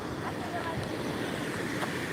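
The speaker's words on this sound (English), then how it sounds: "the wind even picked up as I'm right here" Wind blowing outdoors near water where someone is fishing, a steady broadband rushing buffet against the microphone with faint wave wash beneath.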